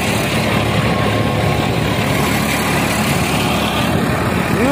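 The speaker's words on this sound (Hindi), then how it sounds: "न्यू हॉलैंड 3510 35 HP का ट्रैक्टर है, मात्र 3 सिलेंडर इंजन के साथ है, फर्स्ट लो में चल रहा है" A New Holland 3510 tractor with a 35 HP three-cylinder engine, pulling a 10-foot rotavator in first low gear, drones in a loud, steady, continuous rumble close by with no talk.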